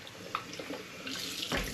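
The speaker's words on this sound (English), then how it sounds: "I'm just going to give my demijohn a little rinse off" A glass demijohn is rinsed under a running tap. The water flow is soft and close, with brief splashes and a surge near the end and no talking.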